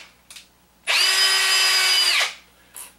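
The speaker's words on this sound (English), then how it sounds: "I am going to drill a starter hole because these sheet metal screws will be able to thread themselves." A power drill bores a starter hole in the sheet metal of a box fan, one steady high whine lasting just over a second, close and loud, with faint handling clicks before and after.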